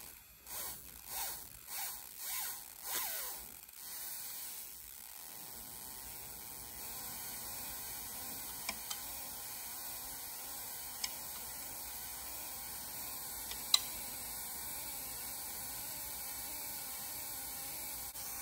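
A simple homemade electrostatic motor built from a cork, a plastic bottle and a bearing whirs after a few rhythmic zipper-like spin-up bursts, settling into a faint steady hum and ticking with occasional small clicks.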